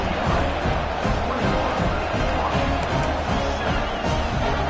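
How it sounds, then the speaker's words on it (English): A college football stadium crowd roars after a touchdown, a loud, continuous wash of cheering voices that stays steady throughout. "this crowd is feeling themselves after that last drive"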